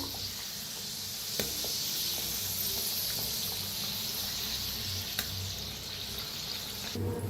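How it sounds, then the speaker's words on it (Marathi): Kachori deep frying in hot oil makes a continuous, even sizzling bubble that holds steady throughout, with a couple of faint clicks on top. "तळून घेऊया"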